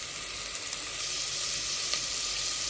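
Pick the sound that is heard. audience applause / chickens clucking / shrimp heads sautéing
shrimp heads sautéing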